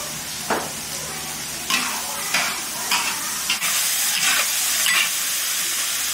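Meat stir-fried with soy sauce, onion and carrot in a large iron wok, a loud continuous sizzle broken by repeated scraping strokes of the spatula, no talking.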